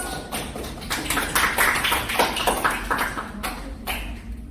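A small group applauds after a classroom role play, a short burst of scattered clapping at moderate distance, uneven and thin rather than a full crowd.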